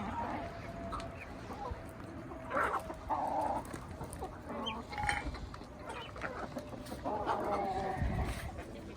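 Chickens clucking nearby, several short overlapping calls amid a faint background, fairly quiet overall.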